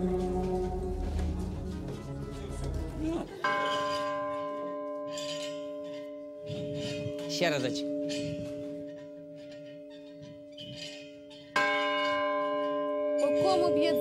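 Church bells rung inside a tower, loud close strikes with long sustained humming resonance, struck several times with decaying tones between hits, while people talk nearby.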